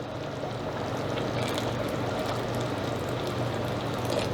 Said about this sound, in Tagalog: lagyan na natin siya ng konti pang mainit na tubig.